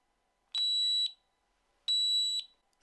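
A Revell Nano Hex hexacopter pairing with its remote gives two loud, clear electronic beeps about half a second each, separated by a pause of over a second, in an otherwise quiet room.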